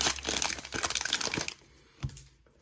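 Foil packs of 2023 Topps Heritage High Number baseball cards are ripped open in a dense burst of crinkling and tearing for about a second and a half, then a single sharp crackle follows in near quiet.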